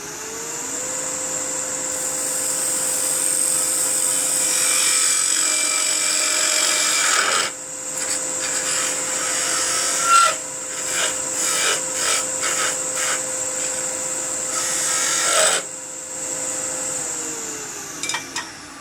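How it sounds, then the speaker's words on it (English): Small spindle gouge chattering against a wooden birdhouse ornament on a lathe, a loud continuous rasping whine with a steady motor hum beneath, broken by brief dips and scraping bursts as the tool vibrates across the wood. "You can hear the vibration from that little spindle gouge trying to make it cut something it's not supposed to cut."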